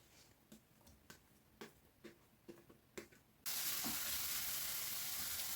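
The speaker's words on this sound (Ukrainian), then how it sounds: "У розігріту сковорідку додаю цибулю" Several soft scraping taps in an irregular rhythm, then a sudden loud sizzle as onion hits a hot frying pan and keeps frying steadily until soft.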